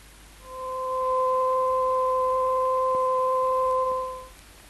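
A steady 500-cycle sine tone with its second harmonic added, two pure pitches sounding together as one held, clean electronic tone that fades in and out.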